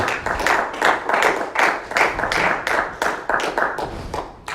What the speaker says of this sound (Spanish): Démosle unas palmas al Señor Jesucristo